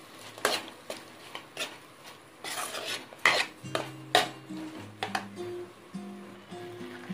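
Cauliflower pieces being stirred into batter for Gobi Manchurian in a bowl, close, irregular wet slaps and spoon clinks against the bowl in uneven bursts, with a brief tonal hum later.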